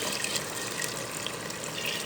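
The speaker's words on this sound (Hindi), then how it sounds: "अब इसमें हम डालेंगे पानी।" Water is poured into roasted lentils in a pot for a dal dish, making a steady rushing gush that lasts about two seconds with nothing else over it.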